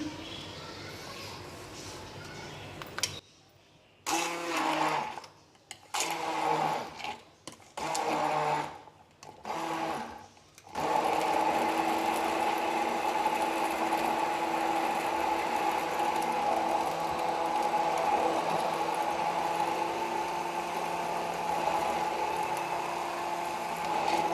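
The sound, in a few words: blender blending watermelon for sharbat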